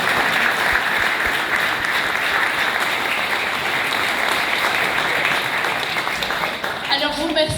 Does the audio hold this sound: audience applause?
yes